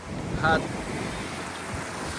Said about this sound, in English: pushing these waves, making these waves surge.